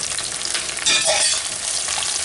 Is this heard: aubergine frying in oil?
yes